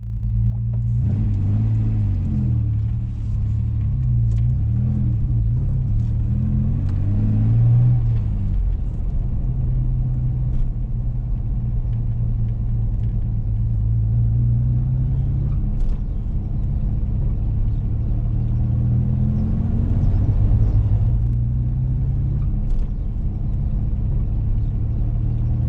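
A historic Ford Capri 2.8 Injection driving through Cornwall, a deep steady engine rumble heard from inside the car with gentle rises and falls in pitch as it shifts and cruises, loud and continuous throughout.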